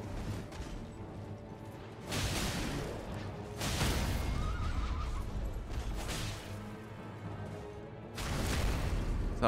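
A horse neighs during a mounted-boss fight in the video game Elden Ring. The whinny is brief and set among heavy crashes and booming combat impacts that surge in loud bursts, with no talking.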